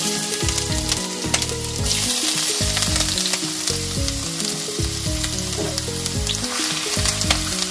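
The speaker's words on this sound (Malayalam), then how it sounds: "ഇഞ്ചിയും വെളുത്തുള്ളിയും ഇട്ട് കൊടുത്തു." Ginger and garlic frying in oil for a Kerala-style fish curry, a loud, dense, sustained sizzle close by, with a tonal background melody running underneath.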